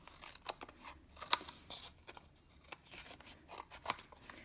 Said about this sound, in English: So trimming from behind just gives you a clean line to look at while you're trimming.